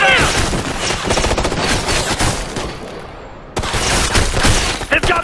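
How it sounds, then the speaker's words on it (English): Heavy automatic gunfire in the Ghost Recon Future Soldier video game, dense rapid bursts and overlapping shots, loud and close, with a brief lull midway before the firing resumes, under occasional shouted voices. "Taking heavy fire!"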